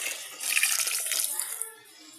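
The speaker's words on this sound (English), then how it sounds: "Time to add water." Water pours into a pot of sprouts curry before pressure cooking, making a bright, splashing gush that swells for about a second and then fades, close and fairly loud.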